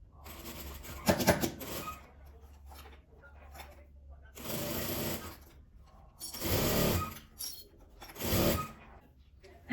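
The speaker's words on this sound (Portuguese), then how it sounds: "vou passar a costura da mesma forma que eu fiz com o tecido principal" A sewing machine stitches fabric lining for a scrap-fabric project in several separate bursts of fast whirring, each a second or two long, with short quiet pauses and light mechanical clicks between runs.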